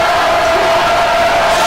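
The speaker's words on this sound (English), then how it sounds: "And the crowd you see getting into it." Basketball crowd in a school gym at a boys' game, Greencastle-Antrim at Shippensburg, cheering loudly in a dense, steady roar.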